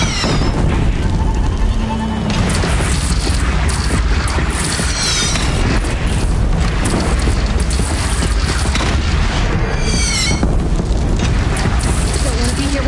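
Heavy cannon fire booms through the Horizon Zero Dawn finale battle, loud low rumbles and blasts under constant mechanical din, wind and shouted voices over about thirteen seconds.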